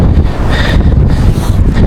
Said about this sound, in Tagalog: Dito lang sa bagay, tabing dagat po kasi, kaya sobrang lakas ng hangin.